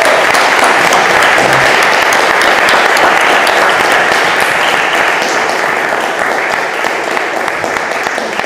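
A summit audience applauds a panel, dense sustained clapping from a large crowd that stays loud throughout and thins slightly at the end.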